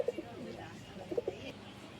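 Domestic pigeons at a home loft on a winter day give a few soft, low coos, faint and close together, over a quiet background with some voices.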